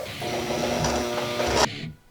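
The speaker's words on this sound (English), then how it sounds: "it's a foot lever underneath the table I'm working on, and it makes the sewing machine go rapid like it is" A sewing machine, driven fast by a foot lever under the worktable while stitching a battle jacket, whirs in a steady rapid mechanical run for about a second and a half, then abruptly stops, close and loud with no talk.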